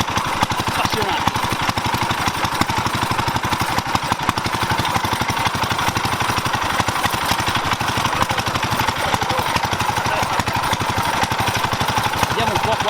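Motor mower engine running at a historic tractor show, a steady loud rapid chugging throughout with a hard mechanical rattle and outdoor noise mixed in.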